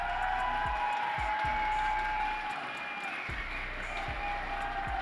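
Crowd applause and cheering fill an esports grand finals arena for the SMITE World Championship, a steady dense roar throughout with rhythmic thumping underneath.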